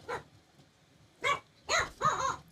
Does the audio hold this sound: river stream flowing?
no